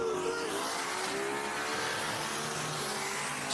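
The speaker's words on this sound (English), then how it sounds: "That twin turbo Vette is nasty." A twin-turbo C6 Corvette accelerates hard during a street race, its engine roaring loud and sustained with rising tone and a faint edge of tire noise, no talk over it.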